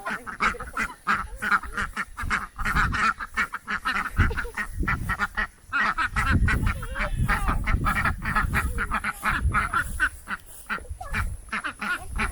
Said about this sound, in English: Supposed to just be feeding the ducks, but got some chickens and some roosters that decided they want to be part of the duck clan